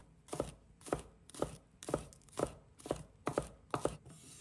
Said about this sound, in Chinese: 把葱白切成末